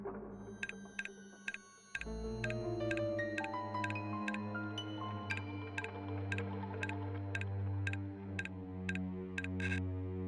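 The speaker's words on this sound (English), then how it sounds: "That sound was obviously the mechanism falling into place." Regular metallic clicks of a combination lock dial in a video game tick over a low sustained musical drone, evenly spaced, with a louder click near the end as the mechanism falls into place.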